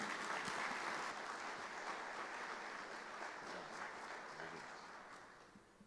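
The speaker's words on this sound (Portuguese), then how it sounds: "vamos receber com uma salva de palmas o nosso educador Roberto Vitorino" A hall audience claps steadily to welcome a speaker, a dense, sustained round of applause that slowly fades toward the end.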